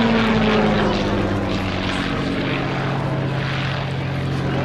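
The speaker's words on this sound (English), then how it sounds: "This Mark 1 has a 525 horsepower Rolls-Royce Kestrel supercharged V12 piston engine." A Hawker Fury Mk 1 biplane at an RAF Cosford airshow, its 525 hp Rolls-Royce Kestrel supercharged V12 piston engine droning loud and steady throughout, with no voices.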